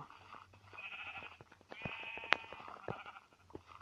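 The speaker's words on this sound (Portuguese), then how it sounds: "tem uma ovelha ali, deixa eu já matar ela" A sheep in a video game bleats several times over a few seconds, clear and fairly close, over soft ambient game sound with no speech.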